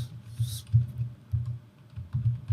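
Keywords are typed on a computer keyboard in a quiet room, with soft clusters of close key taps in an uneven rhythm.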